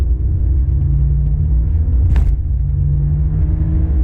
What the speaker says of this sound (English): Let's say we're going 30, 29, I'm gonna floor it to pass.